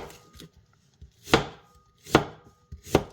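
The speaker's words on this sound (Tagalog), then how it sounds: "hiwain lang natin siya ng maninipis" A knife slices green papaya into thin strips on a cutting board, about four crisp, close chopping strokes in a slow, steady rhythm with near silence between them.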